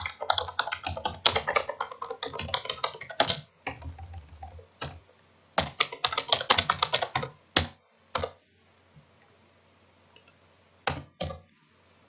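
Someone types on a computer keyboard, entering figures into MYOB accounting software: close, crisp key clicks in quick bursts with short pauses, then a few scattered single taps, with no talking.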